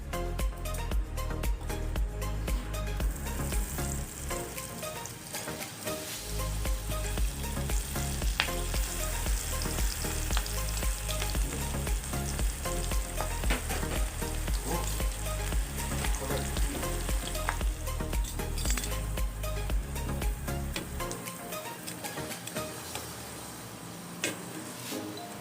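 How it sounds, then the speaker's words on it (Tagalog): Onion rings deep fry in hot oil with a dense, continuous sizzle and crackle, steady and close throughout with no talking. "So, start na tayong mag-prito."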